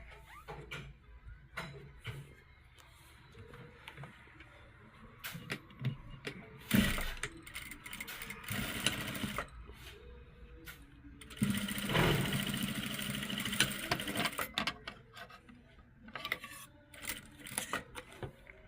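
A sewing machine stitches a baby's party frock. Its mechanical clatter runs in bursts, quiet and close, with two louder, longer runs of stitching separated by pauses and handling noises.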